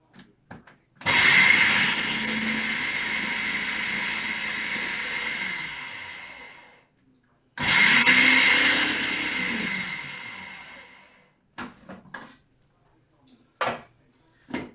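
A blender whirs loudly in two bursts of several seconds each while mixing margarine for a cornflake tart, followed by a few clunks and knocks.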